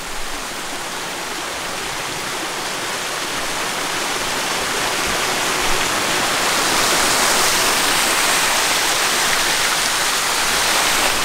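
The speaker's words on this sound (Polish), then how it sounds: "Właśnie zatrzymaliśmy się w drodze na Morskie Oko na jednym ze strumyków. Zobaczcie, jaki wielki strumyk." A large mountain stream on the trail to Morskie Oko in the Tatras rushes steadily and loudly, a broad continuous roar of water that swells slightly toward the end, with no voices over it.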